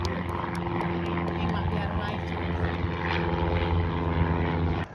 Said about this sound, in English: Here's another Cessna 172 that was just doing a touch and go.